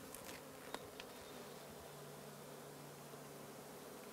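Bees buzz in a recently moved beehive as a faint, continuous drone with a few brief louder passes near the start, heard from close by without any talking.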